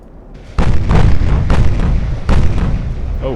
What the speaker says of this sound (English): Oh, lots of casemate guns.